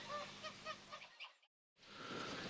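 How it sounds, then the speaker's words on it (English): A flock of hybrid and white farm geese behind a lodge in Isleham honking repeatedly in a noisy chorus, broken by a brief silent gap before the noise resumes. "at the rear of the lodge there's the constant cacophony of geese"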